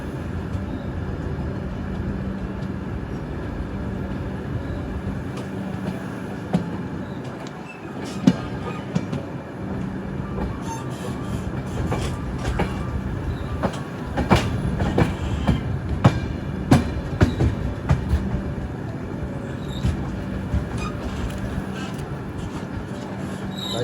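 A train runs along railway tracks near Chennai Central on a long-distance route to Varanasi, giving a continuous loud rumble with clickety-clack wheel beats and occasional sharper clanks, while people talk faintly in the background.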